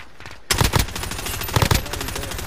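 Automatic gunfire in Call of Duty Warzone on Rebirth Island, sharp bursts of rapid close shots in two clusters, with further echoing fire trailing off.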